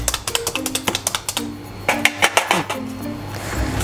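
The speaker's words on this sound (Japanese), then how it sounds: "豚肩ロース薄切り肉ですね。 肉筋切り器を使って穴を開けています" A meat tenderizer stabs into thin-sliced pork shoulder loin with a quick run of sharp, close clicks. Lighter clinks and rustling follow, with no talking.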